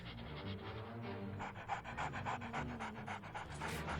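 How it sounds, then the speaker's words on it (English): A dog pants in rapid, rhythmic breaths inside an Agatha Christie mystery video game, the quick huffs steady and close throughout with no talking. "Oh, the cat chases the dog."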